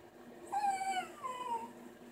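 Dog whimpering while begging for treats, two drawn-out high nasal whines close by, the first longer and the second shorter after a brief pause, in a quiet room.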